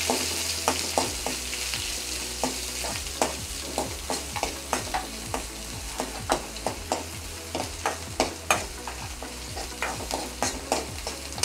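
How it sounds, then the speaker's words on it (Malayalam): Onions and green chilies sauté in a hot pan for a Kerala curry, giving a steady close sizzle broken by frequent sharp scrapes and clacks of a spoon stirring, with no talking. "ഈ ഉള്ളിയും പച്ചമുളകും കൂടെ ഒന്ന് ഒന്ന് ലൈറ്റായിട്ട് വശക്കണ്ട"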